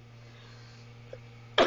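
One short, sharp cough from a woman, close and abrupt near the end, after quiet room hum with a faint throat sound just before.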